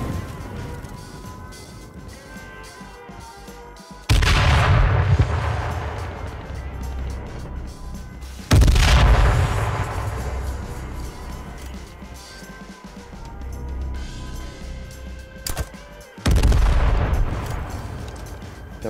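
Explosions and gunfire in the PlayStation 4 battle royale game H1Z1: three loud booming blasts, each decaying slowly, with gunshots and game noise between them.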